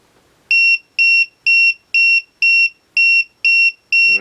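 A LiPo battery low-voltage alarm beeps eight times in an even rhythm, loud, shrill and close, each tone about a quarter second long with equal gaps, followed by a brief rustle.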